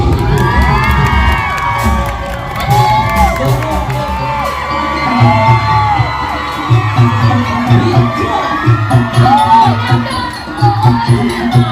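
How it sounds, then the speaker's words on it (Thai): A crowd at a likay folk theatre performance roars with cheering, whoops and children's shouts to welcome a performer. The noise is loud and sustained, with a low musical backing underneath. "เสียงปรบมือต้อนรับนางสาวดำดง"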